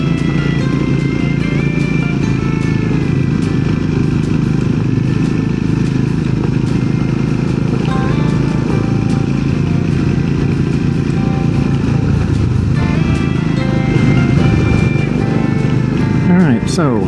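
A small-bore motorcycle on a dusty group trail ride runs continuously with a steady, loud engine drone and buzzing revs, heard close up over wind and clatter, with other engines faintly mixed in.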